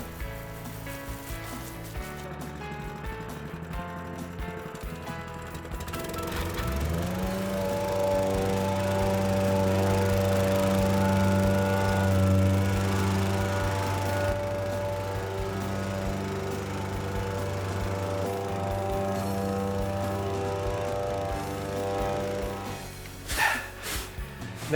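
A petrol plate compactor (whacker) working damp road base before paving, its engine revving up after a few seconds into a loud, steady vibrating drone that holds for most of the stretch, heard close with a brief clatter near the end.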